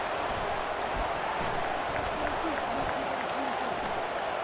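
A packed stadium crowd at a Colorado college football game against Virginia Tech roars and applauds in a sustained wash of cheering for a punt return, with a commentator talking over the noise.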